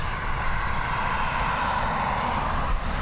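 A Ryanair Boeing 737 departing Dublin Airport makes a steady low jet rumble, moderately loud and unbroken, with no talking.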